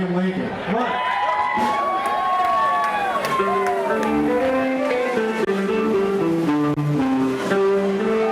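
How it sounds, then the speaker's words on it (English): A crowd greets an Abraham Lincoln impersonator with cheering and applause, a continuous wash of clapping with shouts and whoops over it throughout. "we'll find a nice round of applause for Mr. Abraham Lincoln"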